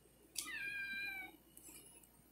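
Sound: cat meowing

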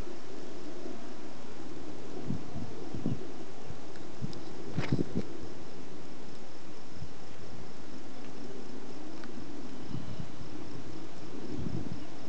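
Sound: crickets chirping

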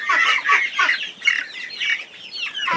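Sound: Barred Rock chicken clucking

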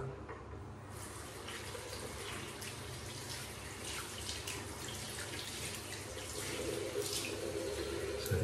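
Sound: rinsing synthetic shaving brush under tap water

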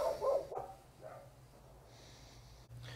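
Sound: dog barking

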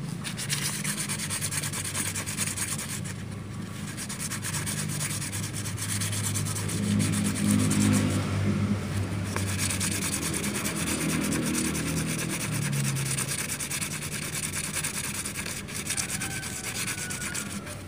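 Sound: fine sandpaper rubbing sewing machine tension disc

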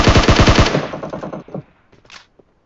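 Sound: gunfire in the video game PUBG Mobile

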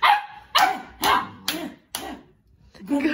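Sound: dog barking

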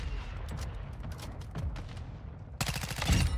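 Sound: gunfire in a video game

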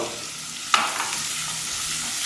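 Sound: onions sautéing with turmeric and salt in a pan

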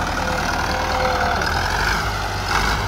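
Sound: Someca 650 Fiat 1954 tractor engine idling

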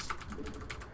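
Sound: computer keyboard typing

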